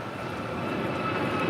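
JetBlue airliner taking off from runway 25 right, a steady broadband engine roar heard from a distance, swelling slightly over a short span, with no one talking.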